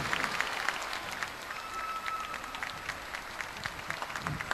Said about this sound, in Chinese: 再次的 掌声送给这神仙眷侣庞青童健。